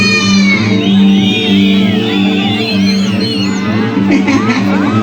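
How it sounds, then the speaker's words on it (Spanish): Men in a wedding crowd at Huanaspampa, Huancavelica, whistle and shout together, a loud sustained mass of high whistles and whoops over steady music and crowd noise. "¡Un silbido de los varones!"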